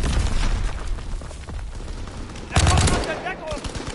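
Call of Duty: WW2 multiplayer gunfire rattles in repeated bursts, with a loud, close volley near the end, while a player talks over the shooting.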